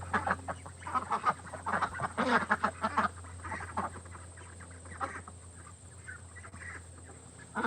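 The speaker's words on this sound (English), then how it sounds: "The rooster." A flock of farm ducks, including Appleyard ducks, quacks and chatters nearby with a rooster among them, a busy run of calls that thins out into quieter clucks.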